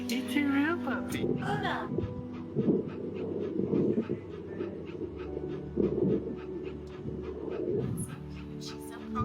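A puppy pants in quick, rhythmic breaths close by, with faint whimpers and a bird cooing in the background, while people talk over it.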